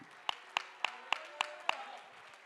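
A church congregation clapping hands in praise during a sermon, six sharp, evenly spaced claps in a steady beat, fairly close, then fading into quiet room tone.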